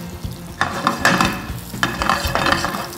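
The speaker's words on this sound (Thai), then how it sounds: "เมื่อเนยเริ่มละลายได้น้ำมันร้อนเนยร้อนเนี่ยใส่กระเทียมลงโลด" Garlic frying in hot melted butter in a pan, a soft sizzle with a few stirring scrapes and clatters, close and fairly quiet, no talking.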